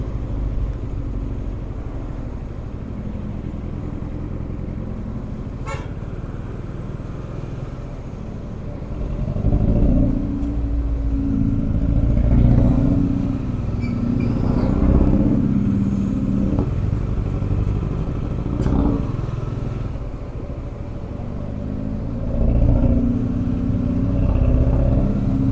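An Audi diesel car drives on a highway, a steady engine and road drone that swells as it passes close by, heard near and fairly loud with no talk.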